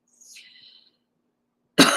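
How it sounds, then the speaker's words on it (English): After a faint high whistle and a pause, a single sharp, loud cough bursts out close by at the very end. "I keep having to cough"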